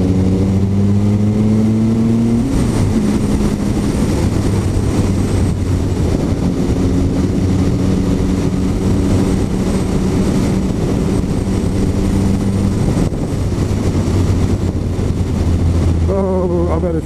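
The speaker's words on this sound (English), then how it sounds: "This bike has a lot of torque. No matter what gear you're in." A Triumph Speed Triple R motorcycle engine pulling hard through the gears, loud and steady with rising and falling pitch sweeps as it accelerates and shifts, wind rush underneath.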